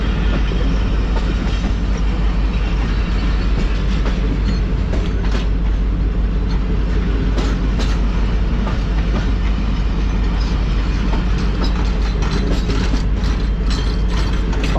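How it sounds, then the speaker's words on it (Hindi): Shalimar Express pulling out of Digri Road Junction, a loud continuous rumble of wheels and coaches with rattling, clanking couplings and metallic squeaks, heard up close from on board with no talking. "तो भाई 7:10 पर जो है वो हमारी ट्रेन निकल चुकी है डिगरोड जंक्शन"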